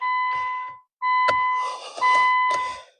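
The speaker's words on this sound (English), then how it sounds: "Why are you beeping, car?" A car's warning chime beeps in short repeated bursts, steady tonal pulses with brief gaps, close and fairly loud, with no talking over it.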